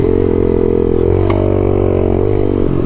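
A pit bike's small engine runs hard and loud up close during a wheelie, a steady buzzing drone that lifts slightly in pitch near the middle before easing back, with no voices.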